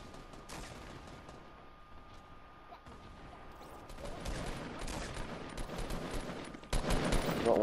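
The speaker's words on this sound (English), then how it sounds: "Time to use grenade launcher." Grenade launcher fire in the Fortnite Battle Royale shooter, a clatter of gunfire and blasts that grows louder over the second half, with a heavy burst near the end.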